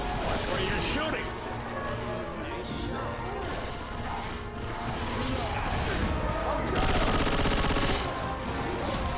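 Dense gunfire from Left 4 Dead 2, rapid automatic bursts and crashes running almost the entire time, with players talking over the shooting.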